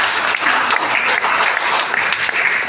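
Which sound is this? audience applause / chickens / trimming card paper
audience applause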